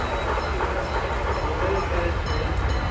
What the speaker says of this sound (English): they're running their little trolleys over here